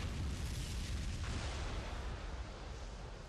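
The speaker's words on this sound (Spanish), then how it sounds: "La explosión libera una energía colosal y genera ondas expansivas." An underground atomic explosion rumbles as a continuous, dense, heavy roar with deep low-end energy, sustained and loud throughout with no distinct onset.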